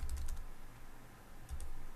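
Quick light tapping on a computer keyboard, a few soft clustered keystrokes at the start and again near the end, faint and close.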